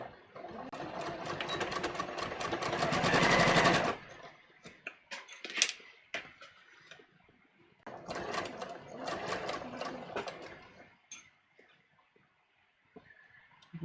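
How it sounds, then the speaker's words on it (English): Sewing machine stitching inside a circle on a fitted garment, two rapid whirring runs separated by a quiet gap with small clicks, close by, with a voice speaking faintly in between. "I'm just going to start sewing right here. And I'm sewing inside the circle."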